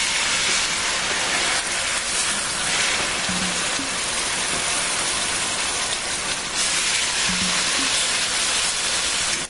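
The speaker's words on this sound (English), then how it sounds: "I'm going to fry these for 8 minutes on each side because we like our steak well." Steaks frying in olive oil in a pan, a loud, continuous crackling sizzle like heavy rain, steady and close, with a couple of faint clinks, no voices.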